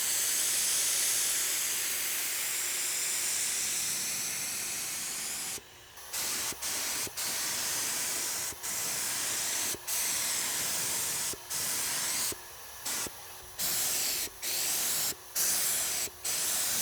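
Paint spray gun hissing steadily while coating wooden cabinet pieces, a long continuous spray first, then a series of short bursts separated by brief pauses, close and loud.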